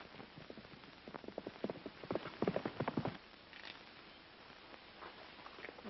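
Horse hooves clip-clop in a quick irregular run of sharp knocks, loudest in the middle and then fading away, set against low outdoor background noise.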